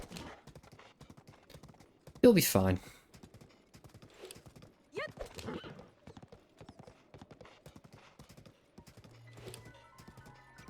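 Hooves of a horse in the video game Echoes of the Wild clop in a steady rhythm throughout, with a brief loud neigh early on and a shorter snort midway; someone speaks briefly.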